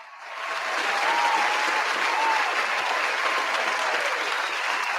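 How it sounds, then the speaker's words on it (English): Applause on a podcast swells in quickly within the first half second, then holds as a steady, moderately loud wash of many hands clapping together, with a faint tonal whistle or cheer riding on top. "Clap it up for your boy."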